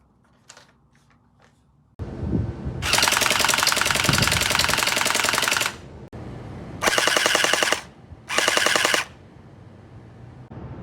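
Powerful gel blaster firing gel balls in fully automatic bursts: a long rapid stream of shots, then two shorter bursts, loud and close with a motor whir between them, no talk.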